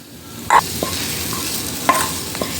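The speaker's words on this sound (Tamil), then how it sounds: "இந்த டைமில் நம்ம தாளித்து வச்சுருந்ததை அப்படியே இந்த பேட்டரில் ஆட் பண்ணிவிடுவோம்" Fried onion tempering being stirred into a dosa or tiffin batter in a bowl, giving a steady wet sizzle-like hiss with a couple of louder clinks and scrapes from the spoon, close and with no talking.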